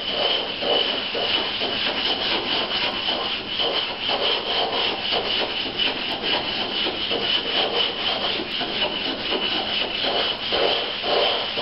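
Continuous gritty scraping and rubbing in a steady back-and-forth rhythm as a glass mirror blank is ground with abrasive grit, close and moderately loud.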